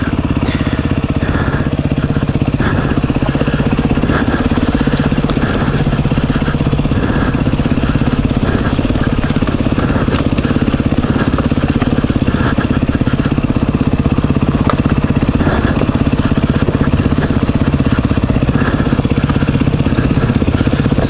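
A 2021 Beta 390 RR dirt bike pulls away on a trail, its engine droning loud and continuous with rising and falling revs throughout, close and without talk.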